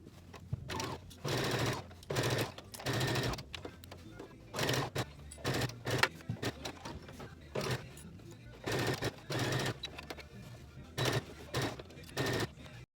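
A sewing machine stitching across the zipper of a fabric pencil bag, running in short whirring bursts of a second or so with brief pauses between, close and clear.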